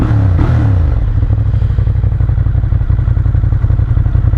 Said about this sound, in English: Even as a standard exhaust it sounds pretty mean.